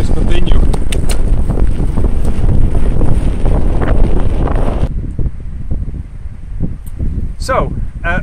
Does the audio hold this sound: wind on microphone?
yes